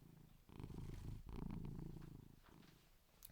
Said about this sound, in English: I'll just let her purr into the microphone a bit